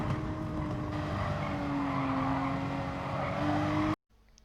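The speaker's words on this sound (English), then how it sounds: "You're going to drop to second gear and start trail braking into the corner." A race car in a racing video game downshifts to second gear and trail brakes into a corner at Catalunya, its engine note droning loud and steady with a tonal whine before cutting out abruptly near the end.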